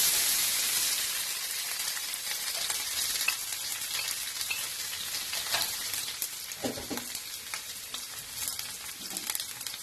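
Bell peppers fry in a pan with a dense, bright hiss of sizzling that starts loud and eases slightly, plus a few soft stirring knocks later on, close up with no voices.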